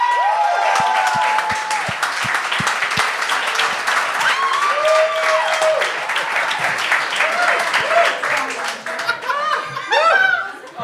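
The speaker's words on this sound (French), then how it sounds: "Mesdames et messieurs, un tonnerre d'applaudissements pour Marc Leclerc!" Loud, sustained audience applause from a comedy stage show crowd, dense clapping with cheers and whoops running throughout, swelling again near the end.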